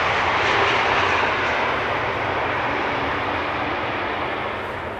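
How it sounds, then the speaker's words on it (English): An Embraer 170 airliner landing at Amsterdam Schiphol, a broad, steady engine roar that holds loud and close for several seconds before easing slightly, with no voices. "Embraer 170 coming in from Norwich, flying under the moniker of KLM"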